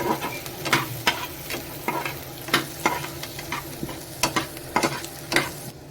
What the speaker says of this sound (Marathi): मस्तपैकी कोळंबी चिल्ली ग्रेवी ग्रेव्ही पूर्णपणे शिजून घ्यायची